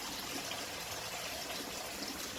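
Water pouring steadily into a Cookeo pressure cooker over chopped carrots, courgettes and potatoes for Tunisian couscous, a continuous close splashing gush with no pauses.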